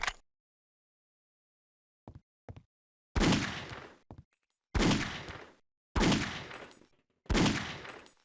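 Gunfire from the video game Half-Life: Opposing Force rings out as four loud, sharp shots spaced about a second apart, preceded by faint clicks, with no talk.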